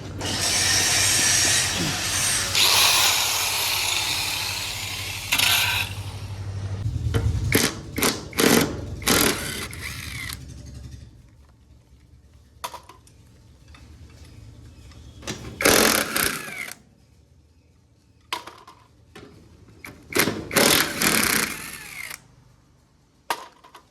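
Angle grinder running during repair of a straw reaper machine, a loud whining buzz with bursts of grinding that starts, stops and restarts in uneven spurts, close by.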